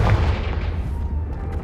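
Confringo blasting spell in Hogwarts Legacy going off as a loud, low booming burst that rumbles through a dense, sustained roar of battle effects, with no voice over it.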